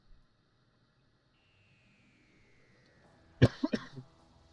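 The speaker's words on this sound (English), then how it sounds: "Got the cough for some reason." A person gives a couple of sharp, close coughs in quick succession after a quiet stretch, the first burst strongest and a softer one following.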